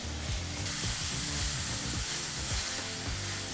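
Chopped tomatoes fry with ginger garlic paste in a pan for palak dal, making a constant close hissing sizzle with no pauses and no voices.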